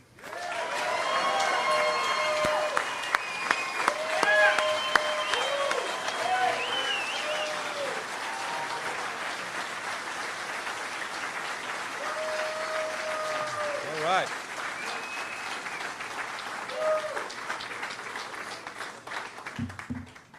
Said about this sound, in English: give a big round of applause to President Fain.